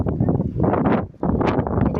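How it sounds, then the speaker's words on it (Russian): Strong gusty wind buffets the microphone outdoors near the sea at Odesa, a loud continuous low roar that swells and briefly dips before surging again. "даже слышно, допустим, что на микрофон, что ветер офигенно дует"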